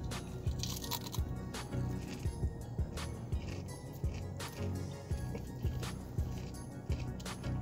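Loud, close crunching bites into a fried shrimp, one whole shrimp split in half and fried with the tail on, from a Louisiana-style food truck. Repeated crisp crunches and chewing come in an irregular rhythm with no talking.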